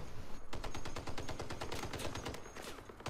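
Rapid, continuous automatic gunfire from vehicle-mounted weapons in Crossout, a wheeled combat build with dual Reaper guns and a Bastion cab, pounding in a dense rhythmic stream for about three seconds, loud and close.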